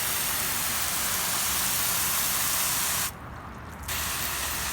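A garden hose on a mist setting sprays water in a steady, close hiss, briefly cut off for a moment before the spray resumes.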